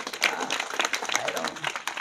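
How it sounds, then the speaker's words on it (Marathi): A short burst of applause from a kirtan audience, clapping fairly loud and dense for about two seconds. "अशी मनापासून टाळी वाजवा एकदा या मंडळीसाठी"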